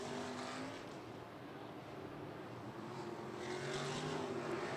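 Sprint cars race down the back stretch of a dirt oval, making a continuous distant engine roar that swells slightly as the pack goes by.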